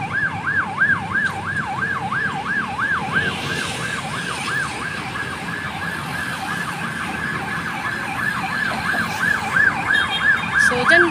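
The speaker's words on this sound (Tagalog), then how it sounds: "Maingay yung ambulansya." Ambulance siren wailing on a city street between Makati and Mandaluyong, a steady up-and-down sweep repeating throughout, fairly close and loud over constant traffic rumble.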